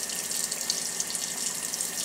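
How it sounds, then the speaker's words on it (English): Water sloshing and trickling steadily as a wet felt bead is rolled by hand through warm water, a soft continuous splashing with no talk. "So I'm going to roll it through the warm water again."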